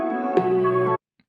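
A sampled chord chop pitched up seven semitones for a UK garage track, one sustained bright chord held for about a second that cuts off abruptly into silence, with a couple of faint ticks after.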